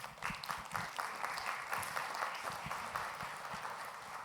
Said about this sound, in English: I'm not entirely sure why they're clapping